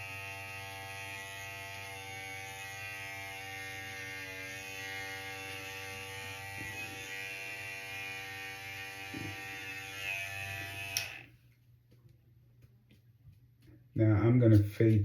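Electric hair clippers buzz steadily up close while trimming a man's hair, a constant tonal hum that cuts off near the end, followed by a brief louder burst.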